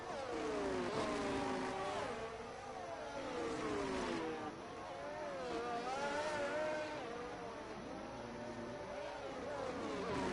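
A McLaren Formula 1 car laps the Miami circuit in a racing game, its high engine whine rising and falling through gear changes and corners, joined by other cars, while a commentator talks over it.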